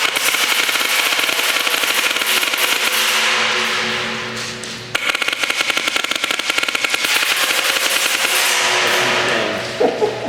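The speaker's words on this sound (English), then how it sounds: "Isn't it like a modified paintball gun that's like converted to airsoft or something?" A paintball marker modified into an airsoft gun fires long, rapid bursts of sharp cracking shots, loud and close, with a brief break partway through before firing resumes.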